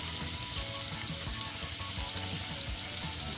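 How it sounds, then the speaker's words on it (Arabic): A large spoonful of garlic fries in a pan for liver with mozzarella, giving a steady, loud crackling sizzle throughout with occasional stirring scrapes underneath. "نحط معلقه ثوم كبيره"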